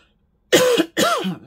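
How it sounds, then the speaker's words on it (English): Two close, sharp dry coughs, one right after the other, with no other sound around them. "Oh dear, got a bit of a dry cough."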